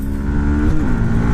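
A 2018 Yamaha MT 125 motorcycle engine held at full throttle, a steady loud high-pitched engine whine that is close by and continuous throughout, with no talk.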